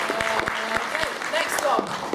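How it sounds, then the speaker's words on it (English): A convention audience gives a short round of applause at an anime event panel, with clapping sounding under a host's voice and other talk for about two seconds. "Big round of applause for Rachel."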